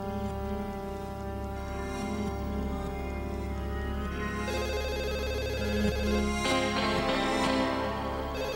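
A telephone rings in a prank call in a TV episode, its repeating electronic ring sounding over a low sustained musical drone, fairly loud, with the tone shifting partway through.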